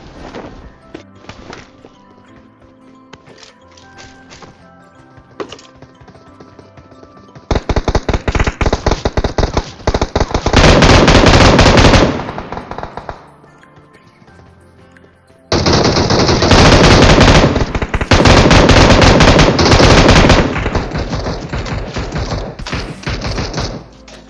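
Automatic gunfire from a video game, with sparse single shots at first and then two long, loud bursts of rapid fire separated by a quieter stretch.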